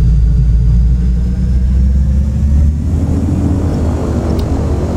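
Simulated turboprop engine spooling up on a Beech 1900D in a flight simulator: a steady low drone and whine, joined partway through by a rising, broader rumble as the engine lights and builds power, loud and close.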